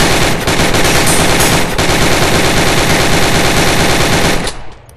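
Sustained automatic gunfire in the VR shooting game Gun Club, a loud, continuous rapid burst of close shots that lasts several seconds before cutting off abruptly near the end.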